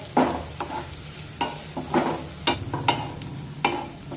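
Onion sautéing in a pan for oats upma over a medium flame, heard as irregular scraping stirs against the pan with a soft sizzle underneath, no voices.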